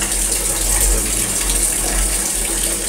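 Water gushes through PPR pipe into a 500-liter Bestank tank in a loud, continuous rushing flow with a low rumble underneath, unbroken from start to finish.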